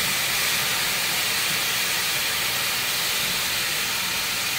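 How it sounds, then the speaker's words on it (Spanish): Potatoes poured into hot oil on a griddle while cooking burgers, giving a loud, steady broadband sizzle and hiss that fills the whole clip without pause. "Ahora vamos a vaciar las papas."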